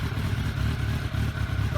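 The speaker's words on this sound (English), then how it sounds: "He's revving it like a hooligan." A motorcycle engine is revved hard, its steady low rumble running throughout the short stretch beneath a person talking.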